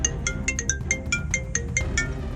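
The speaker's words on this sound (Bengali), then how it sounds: "হঠাৎ আমার ফোনটা বেজে উঠল।" A phone ringtone sounds alone, a bright electronic ring repeating in quick regular pulses, fairly close and steady throughout.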